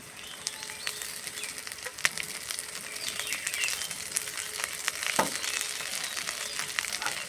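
Chopped garlic, chilli and onion lightly frying in a pan, a steady soft sizzle running throughout with a few faint scrapes and clicks of stirring, fairly quiet and close, no voices.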